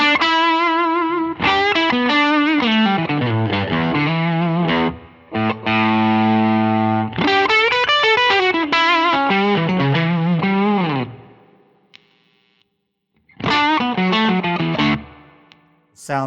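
Electric guitar solo played on single-coil pickups through a Way Huge Red Llama overdrive pedal, with sustained, distorted lead lines and bends in loud phrases, a brief pause, then a final phrase.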